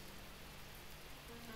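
Steady rain falls outside in the visual novel The Fruit of Grisaia, a soft, continuous hiss that stays faint and even throughout with no voices.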